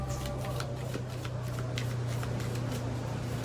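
Tarot reading cards are shuffled by hand in a continuous run of quick riffling flicks, close and steady over a constant low hum, with no talk.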